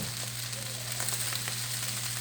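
Peas and corn sizzling in oil in a pan after an extra splash of oil, a steady close frying hiss with faint crackles over a low hum.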